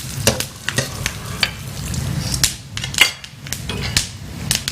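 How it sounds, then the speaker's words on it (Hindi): Nuts, seeds and raisins fry lightly in a pan, a steady close sizzle punctuated by sharp scrapes and knocks of a spoon stirring and tossing them. "सारे जो नट्स हैं उसको आपने फ्राई करना है।"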